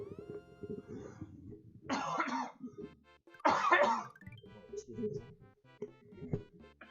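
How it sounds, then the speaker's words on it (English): A person recovering from a respiratory infection coughs twice in harsh bursts and clears their throat close to the microphone, between stretches of talking. "so I am coughing still"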